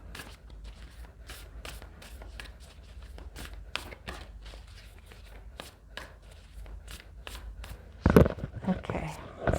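Tarot cards riffled and handled in a quick run of crisp flicks and snaps for most of the stretch, ending in a louder burst of card rustling and slapping, close by with no talking.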